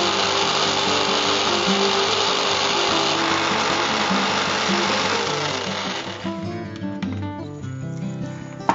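A mixer grinder grinds masala for sundakkai vathal kuzhambu with a loud, constant motor whir that winds down and cuts off about two-thirds through, leaving quieter rattles.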